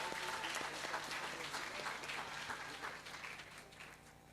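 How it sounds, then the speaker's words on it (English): An audience at a certification training graduation ceremony gives a final round of applause for the recipients, a dense, moderately distant clapping that gradually thins and fades toward the end. "let's give one last final round of applause for all our recipients."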